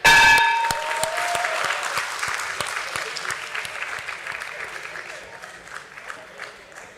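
An audience at a stock exchange listing ceremony bursts into loud applause and cheering with a ringing bell-like clang at the start, then the clapping thins and fades over several seconds.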